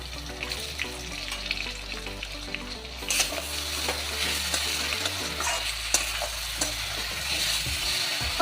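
Chopped onions sizzling and frying in a pan as they turn lightly golden, a steady hiss with occasional stirring scrapes and clatters throughout, loud and close with no talking.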